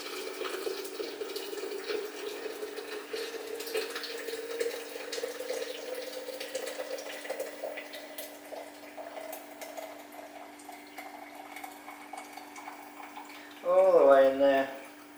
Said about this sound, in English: We're going to pour that carefully into the pot